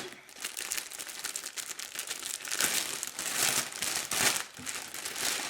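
Beige bodysuit being unwrapped from its plastic packaging, with dense crinkling and crumpling that runs throughout, loudest in bursts near the middle and end.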